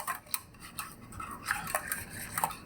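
Spoon working through a lupin polenta mixture in a pot, giving a run of light, close scrapes and clinks with small soft taps in an irregular rhythm, no voices.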